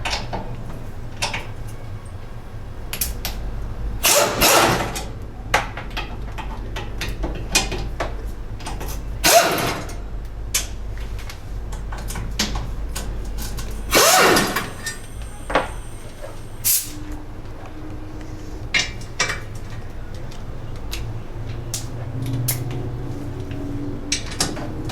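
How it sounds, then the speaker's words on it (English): Metallic clicks and ratcheting bursts as a ratchet removes seat latch bolts on a Yamaha Rhino 700, in short irregular runs over a steady low hum, with clanks of tools between them. "remove the 4 bolts that hold the seat latch on to the seat frame area"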